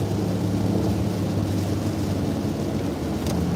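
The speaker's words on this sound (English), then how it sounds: "Because I know it's raining," Rain on a car during a road trip, a steady dense hiss over the low droning road rumble inside the moving vehicle.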